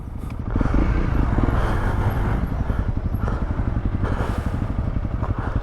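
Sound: motorcycle crossing a stretch washed by water

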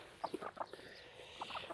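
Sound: hen clucking

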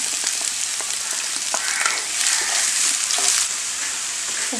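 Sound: chopped onions frying in a pan with ginger and garlic

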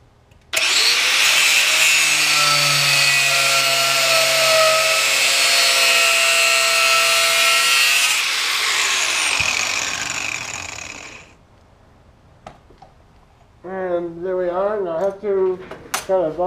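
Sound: power tool cutting a handle piece

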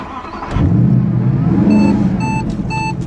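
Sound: 2014 Mercedes SLS AMG Black Series engine on race track

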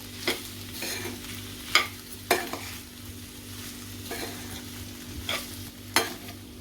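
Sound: stirring in salt while cooking

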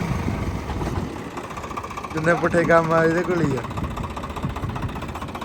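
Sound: Swaraj tractor engine running

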